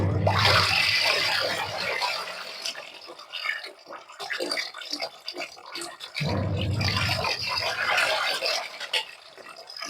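Water gushes from a pipe into a MarQ washing machine drum mixed with Surf Excel detergent, a loud steady splashing rush that fades midway and then returns just as strong.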